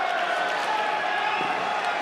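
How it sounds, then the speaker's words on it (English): Spectators at a Lehigh vs Cornell college wrestling dual meet fill the arena with a steady crowd roar and scattered cheers, heard at a distance under a commentator's talk. "The crowd getting it into it a little bit here."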